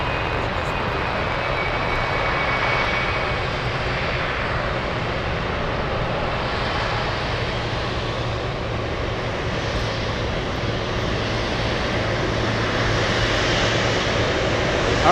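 An MD-11 jet takes off at Anchorage airport, its engines giving a loud, continuous broadband roar that holds steady throughout at a distance.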